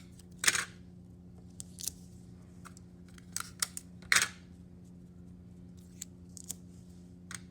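Adhesive tape is pulled and torn in a few short, sharp bursts to pin down a paper skirt pattern, with quiet gaps and small rustles between them.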